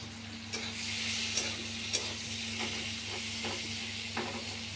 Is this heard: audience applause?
no